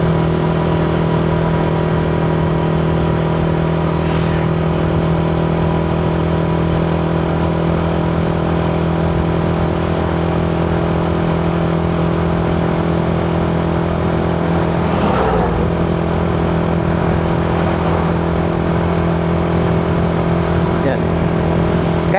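A tuned stock-engine Yamaha Sniper 155 motorcycle, fitted with a new UMA iridium spark plug, runs with a steady engine drone and a sustained revving hum under continuous loud road noise, no talk.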